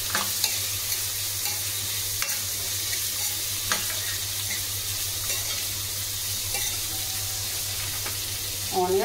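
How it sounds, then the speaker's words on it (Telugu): Finely chopped onions fry in a pan with a steady, close sizzle and occasional stirring scrapes. "తర్వాత ఆనియన్స్, సన్నగా కట్ చేసుకున్న ఆనియన్స్ వేసుకోవాలి"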